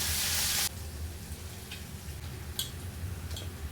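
Grated ginger dropped into a hot pan for restaurant-style chilli paneer gives a sharp burst of hiss, which settles into a quieter sizzle with a few light ticks of stirring.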